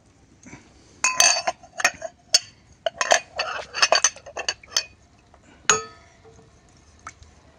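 A spice plate being washed in a home kitchen while khichdi cooks: a run of bright metallic clinks and clatters, close by and irregular, ending in one louder clang.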